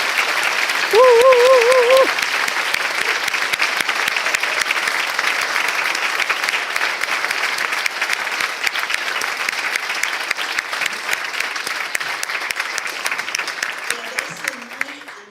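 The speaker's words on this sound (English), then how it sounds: "if we can give them an applause to recognize their service" Long, steady audience applause at a spiritual community book presentation, dense even clapping from a large crowd that holds for many seconds, with a brief whoop or cheer near the start and a voice near the end.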